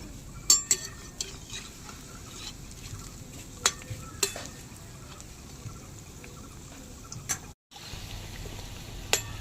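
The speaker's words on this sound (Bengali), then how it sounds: "উল্টে পাল্টে এইভাবে ভেজে নিয়েছি, আর যেন ফুলছে।" Gram flour snacks sizzle steadily in hot oil while being turned, with a few sharp clinks of a utensil against the pan over a constant frying hiss, close and moderately quiet.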